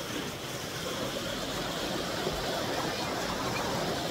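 A small waterfall pours into a clear river, giving a steady, close rushing wash of water that holds even and loud throughout, with no voices over it.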